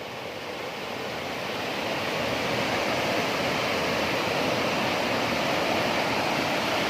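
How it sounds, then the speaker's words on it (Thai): Khon Pla Soi waterfall at Don Det in Si Phan Don, Laos, pours as a steady, broad roar of rushing water that builds in the first second and then holds loud and constant, with no voices. "นี่เป็น น้ำตก คอนปลาสร้อย"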